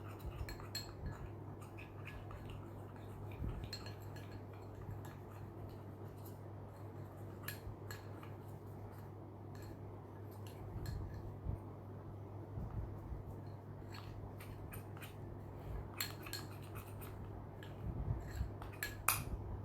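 A spoon mixes a curd face-pack paste in a bowl, giving soft, steady clinks and scrapes with brief sharper taps. A low hum sits underneath, and no one speaks.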